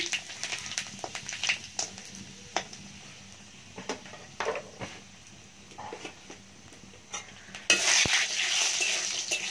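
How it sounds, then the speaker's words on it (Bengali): Five-spice seeds and bori tempering in hot oil over a clay stove, a close sizzle broken by frequent stirring clatters and spoon taps, swelling into a louder burst of sizzling near the end. "তেলটা গরম হয়ে গেছে, এবারে দিয়ে দেবো 5 ফোড়ন আর বড়ি ফোড়ন।"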